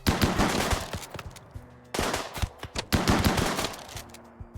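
Chain shotgun fire in RimWorld: three loud rapid-fire bursts of repeated blasts, each lasting over a second with short gaps between, close and dominant with no talk.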